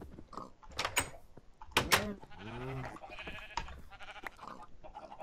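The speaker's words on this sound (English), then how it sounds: "Oh yes, we have a sheep ready to go." Sheep in the Minecraft video game bleat in short, wavering calls, with a few sharp clicks and knocks between them, all fairly close and clear.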